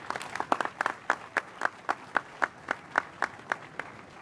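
Audience members at a mayor's news conference on housing clap in a loose, rhythmic pattern, sharp distinct claps about twice a second, fairly close and fading slightly toward the end, with no speech over them.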